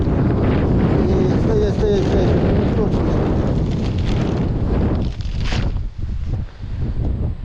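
Strong wind roars and buffets the microphone in heavy gusts outdoors on a fishing outing, with a brief spoken word heard under the rumble.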